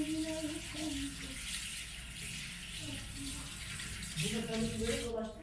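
Hands are washed under a running tap, a steady close rush of water that keeps going throughout while a voice talks over it.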